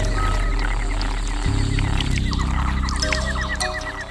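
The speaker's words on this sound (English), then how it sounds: "We stay at a safe distance from the bright red strawberry poison dart frog, a tree-climbing frog that can inject toxic substances into the skin." Frogs call in the Tortuguero canal rainforest of Costa Rica, home of the bright red strawberry poison dart frog, with rapid repeated croaks and chirps, fairly loud and continuous over a dense background of jungle insects and birds.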